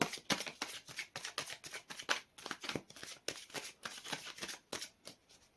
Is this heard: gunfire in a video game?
no